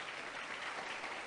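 A church congregation applauds during a sermon, a brief, fairly faint wash of continuous clapping heard from a distance with no voices over it.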